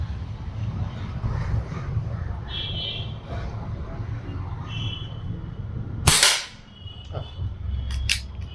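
Single air rifle shot, a sharp close crack partway through, over steady outdoor wind and low rumbling background noise.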